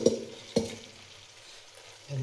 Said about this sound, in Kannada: ನೋಡಿ ಈ ಥರ ಫ್ರೈ ಆದಮೇಲೆ ಆವಾಗಲೇ ಮಾಡಿರ್ತಕ್ಕಂಥ ರೈಸ್ನ ಇದಕ್ಕೆ ಸೇರಿಸ್ತೀನಿ